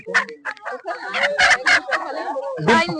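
A rooster crows up close at a large market on the India–Bangladesh border, its call ragged and overlapping with other noisy clucks and chatter around it.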